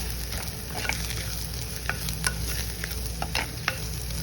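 Turmeric powder is stirred into a curry frying in a pan, a continuous sizzle with the spoon scraping and clicking against the pan at irregular moments, close and clear with no talking.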